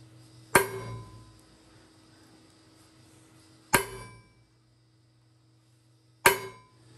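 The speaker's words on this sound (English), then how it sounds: "Now we'll go with a traditional center punch, and I'll just hit it a couple more times." Three sharp metallic hammer strikes on a center punch into metal, evenly spaced a few seconds apart, each ringing briefly in a quiet room.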